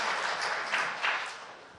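A congregation applauds during a church worship service for a discipleship class completion, a soft, somewhat distant wash of clapping that rises briefly and fades within two seconds.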